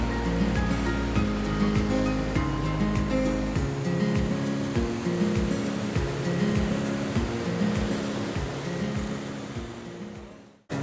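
A white, crystal-clear waterfall in the hills around Lava, Lolegaon and Kolkham, its water roaring in a continuous broad wash close by, with wind buffeting the microphone in low rumbles and a sudden cutoff at the end.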